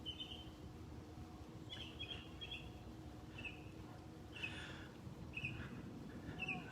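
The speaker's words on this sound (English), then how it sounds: "Listen to the birds singing." Birds chirp in short, faint bursts in warm outdoor air on a street a couple of blocks from the beach in old Naples, with steady low background noise and no talk.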